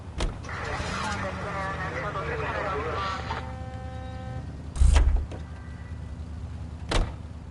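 A car in the L.A. Noire video game gives a low steady engine hum under someone talking, followed by two heavy thuds near the end.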